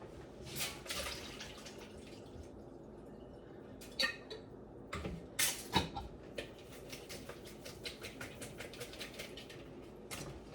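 Liquid draining from jarred artichoke hearts in a home kitchen: faint drips and trickles with scattered clicks and taps, a few sharper splashes midway, then a quick run of small patters near the end.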